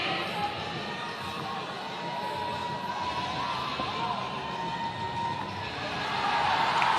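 At the 2025 CrossFit Games men's one-rep-max back squat, the arena crowd cheers a lifter with 455 on the bar. The cheering is a continuous wash that swells louder toward the end.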